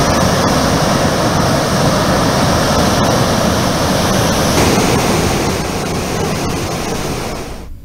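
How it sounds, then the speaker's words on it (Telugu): Flooded streams and rivulets overflowing after heavy rain in the Polavaram submergence area, a loud, continuous rushing roar of water that holds steady, then eases slightly near the end. "పోలవరం ముంపు మండలాల్లోని అనేక ప్రాంతాల్లో వాగులు వంకలు పొంగి ప్రవహిస్తున్నాయి"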